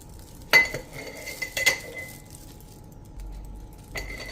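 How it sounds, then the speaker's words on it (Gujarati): Homemade red chilli powder spooned into an airtight jar, with two distinct metallic clinks of a spoon against the jar, soft scraping between them and another clink near the end in a quiet room. "હવે એને આપણે આ રીતે પાવડર ભરતા જાશું બરણીમાં."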